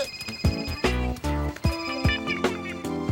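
A cartoon telephone rings in repeated electronic bursts, each a bright stack of tones with a quick falling chirp at its onset, close and loud with no voices over it.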